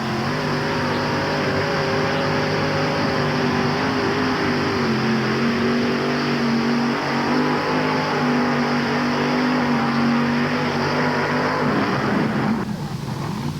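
A loud, sustained engine roar comes from a mini rod tractor-pulling vehicle on the track at a 1988 NTPA pull in Syracuse. The roar holds steady for several seconds and then drops off near the end.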